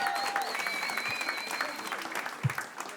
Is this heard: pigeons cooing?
no